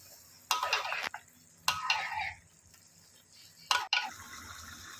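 Broth being added to stir-fried sweet pork as it simmers in a pot, giving three bursts of splashing and stirring with a soft sizzle between them, close and moderately loud with no talking.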